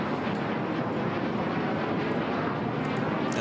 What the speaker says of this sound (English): مرور على سرعات منخفضة من أمام المنصة